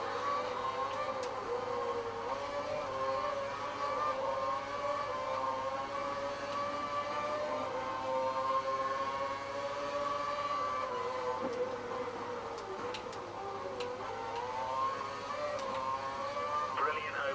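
A Force India Formula 1 car races in the Formula 1 2012 video game, its engine whining in a steady high droning pitch that rises and dips slightly with throttle, continuous and prominent throughout.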